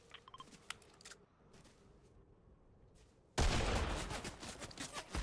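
Gunfire in a ranked battle royale video game: a few scattered distant shots early on, then a sudden loud, sustained burst of rapid fire filling the last two seconds.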